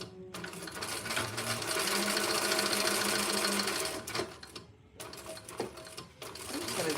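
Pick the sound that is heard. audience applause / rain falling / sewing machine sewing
sewing machine sewing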